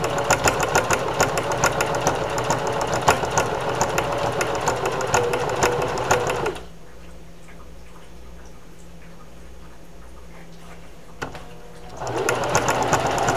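A sewing machine runs loud and close with a fast, even mechanical stitching rhythm, stops for several seconds leaving only a low hum, then starts up again.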